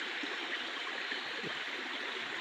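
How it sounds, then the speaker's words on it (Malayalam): Stream swollen after heavy rain, following months of being dry, flows in a steady broadband rush of water, continuous and fairly close, with no voices. "തോടിലെല്ലാം നല്ല വെള്ളം ഒഴുകാൻ തുടങ്ങി"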